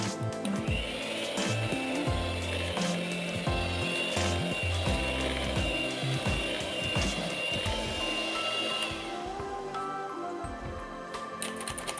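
An electric mixer beats sifted flour into agar-agar lapis legit cake batter, a steady close motor whir running almost continuously with scraping, rubbing texture that eases slightly toward the end.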